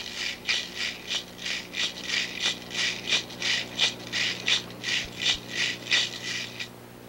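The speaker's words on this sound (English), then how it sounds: "Barry Lester tests Debbie's responses to the rattle" A baby's rattle shaken in steady bursts, about a dozen rhythmic clattering shakes, close and fairly quiet over a low background hum.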